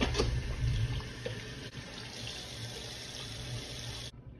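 A kitchen tap runs steadily for about four seconds as hands are washed before handling oxtail, a close, continuous splashing hiss that cuts off abruptly near the end.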